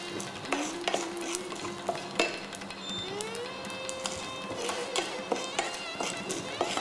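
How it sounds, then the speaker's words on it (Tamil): Cumin seeds and two dried red chillies stir-fried in a pan for oats upma, giving a steady soft sizzle with scattered spatula scrapes and clinks close by, with no talk. "சீரகம் துளியூண்டு, ரெண்டு மிளகாய் வத்தல் நல்லா இதை பிரட்டிக்கோங்க."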